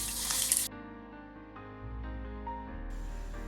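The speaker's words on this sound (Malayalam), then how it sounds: "കടുക് പൊട്ടി വന്നാൽ അതിലോട്ട് 1 തണ്ട് കറിവേപ്പില കൂടി നമുക്ക് ചേർക്കാം" Curry leaves hit hot coconut oil with popped mustard seeds for a Kerala chilli bajji chutney, giving a steady close sizzle that swells partway through and then settles into a soft continuous fry.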